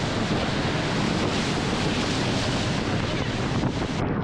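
Waterfall roar at the base of Bridal Veil Falls at Niagara Falls, a dense, loud, steady rush of falling water with wind buffeting the microphone, continuous throughout.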